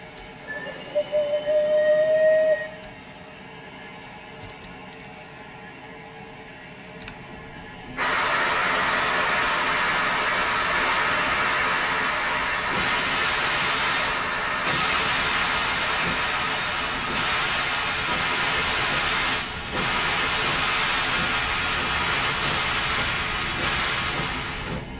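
A black class 08 diesel shunter in Train Sim World 2021 pulls away from Swanage station on the Swanage Railway, a steady loud engine drone and broadband rumble building after a quiet start with a brief hiss, continuing alone.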